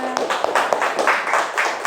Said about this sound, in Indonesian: Tepuk tangan buat temennya